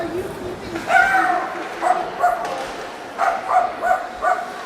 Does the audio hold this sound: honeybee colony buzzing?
no